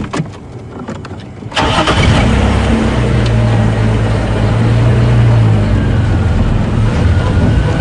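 A safari game-drive vehicle at Djuma Game Reserve turns over close by, catches, and settles into a loud, steady engine rumble as it pulls away, with no talking.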